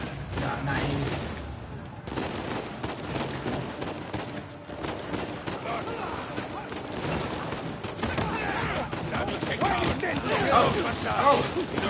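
Rapid gunfire in the video game Nathan Drake Adventure 4, with a dense stream of sharp shots and mechanical clatter running through the whole stretch and building louder toward the end, with brief speech mixed in.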